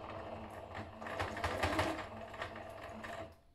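A sewing machine runs steadily, stitching close to the edge of bias binding on a washable fabric paper towel, a soft, fast mechanical whir with a regular clatter that fades out at the end.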